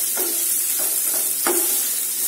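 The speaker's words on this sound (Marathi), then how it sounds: "आपला कांदा व्यवस्थित परतला गेला आहे" Chopped onions sautéing in a pan for Maharashtrian pithale (besan curry), a steady close sizzle broken by a few sharp scrapes of a spoon stirring, with no voices.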